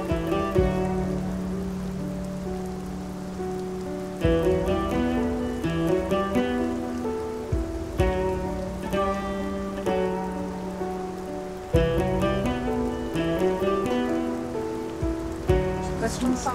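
Rain falls steadily outdoors in a TV drama scene, a continuous wash of patter running beneath a prominent music score throughout, with no voices.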